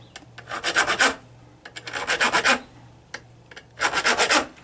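Damaged bolt threads held in a vise are worked with a file in three bursts of rapid back-and-forth rasping strokes, close and clear with short pauses between.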